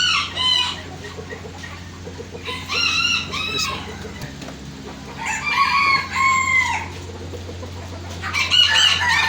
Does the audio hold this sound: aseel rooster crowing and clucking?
yes